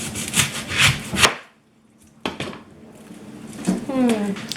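A kitchen knife slices an onion in half on a cutting board for chicken noodle soup, giving a few close, crisp cutting and scraping knocks, a short pause, then more board contact with light clatter.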